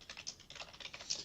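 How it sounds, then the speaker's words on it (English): Rapid, steady keystrokes on a computer keyboard as someone types a search query, quiet and close with no voices. "I'm typing in Katie Bauman hard drives."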